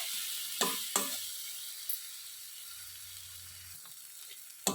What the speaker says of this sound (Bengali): ভালো করে কষাবো মশলার কাঁচা গন্ধটা চলে যাওয়া অবধি আমি কষাবো এটা